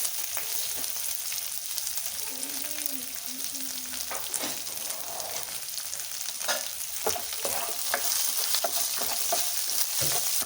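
Green chillies, garlic and ginger frying in a pan for dal, a steady close sizzle with occasional stirring clicks throughout, no talking.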